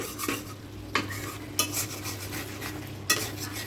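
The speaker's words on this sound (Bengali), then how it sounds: "এখন জাস্ট একটু নেড়ে দেবো" Tehari meat gravy, thickened, is stirred in a pot with a utensil, giving a few distinct scraping clinks spaced about a second apart over a low steady sizzle, close and moderately loud.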